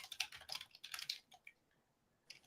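Rapid clattering keystrokes on a computer keyboard come in two close bursts, then a short pause and a faint final flurry, quiet and near with no talking.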